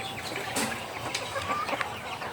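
Native chickens cluck softly while being fed outdoors, with several short scattered clucks and calls close by over a quiet background.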